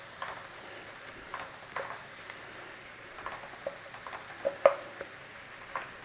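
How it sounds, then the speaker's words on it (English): Onions sautéing in butter in a pan give a soft, steady sizzle with faint scattered pops and occasional stirring scrapes, low and close. "Nice little saute on those onions."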